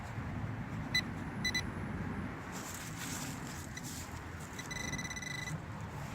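A metal detector sweeps over buried metal, giving two short electronic beeps and then a longer, higher ringing tone over steady outdoor background noise.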